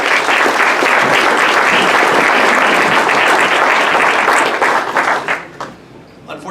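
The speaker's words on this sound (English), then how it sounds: "Let's give them one more round of applause" An audience at a Rotary Club meeting breaks into sustained, dense applause, loud and steady for several seconds before tapering off into scattered claps.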